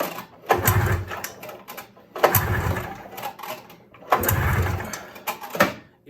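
A Ski-Doo Skandic 377R snowmobile, fuel smell in the engine bay, gets three pull-start attempts, each a loud rasping burst of cranking lasting about a second, separated by short pauses, without the engine running.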